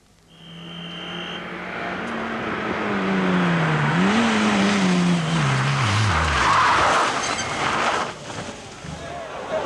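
A Ford Escort Cosworth rally car skids through a stage at Clumber Park during the 1993 RAC Rally, tires squealing and the engine note sweeping and falling over a loud, sustained gravelly roar, fairly close, with a commentator's voice briefly at the start.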